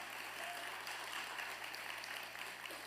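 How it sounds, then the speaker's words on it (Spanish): A church congregation claps together in sustained applause, a dense steady patter that fills the whole stretch with no break. "por favor, denle un fuerte aplauso a la comunidad homosexual"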